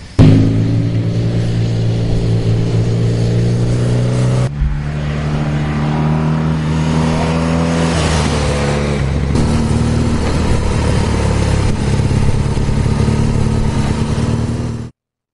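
A BMW R1200 GS adventure motorcycle engine drones steadily and loud while riding, with a clear gear change partway through and smooth pitch rises as it accelerates, continuous to the end, no talking.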